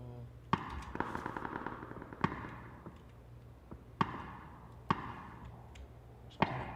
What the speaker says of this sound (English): There's kind of gunfire going over by 215.